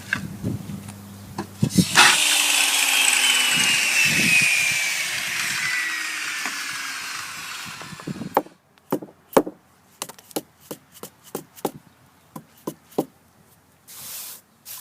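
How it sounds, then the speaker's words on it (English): A loud, harsh circular saw with a diamond blade grinds through stone for several seconds and winds down, followed by a run of sharp clacks and knocks, then a brief hiss. "A diamond blade and a skill saw."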